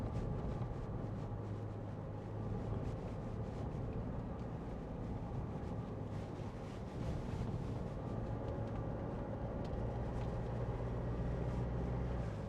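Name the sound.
Mitsubishi L200 pickup driving over bumps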